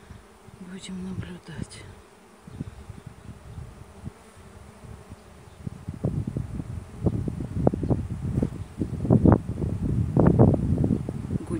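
A swarm of honey bees buzzes loudly around a hive during a secondary swarm's emergence, dense close droning with individual bees zipping past the microphone, wind rustle in places and a brief voice speaking early on.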